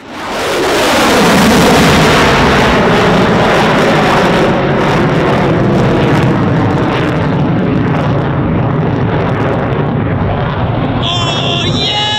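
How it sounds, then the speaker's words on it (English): Two F-35 fighter jets take off and climb steeply just above the runway at very low altitude, their engines a loud, broad roar that peaks early and stays heavy throughout, rumbling close by. "These two F-35s were cleared to make unrestricted climbs, meaning they will climb very quickly after clearing the runway at a very low altitude"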